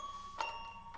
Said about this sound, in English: vinylized toy piano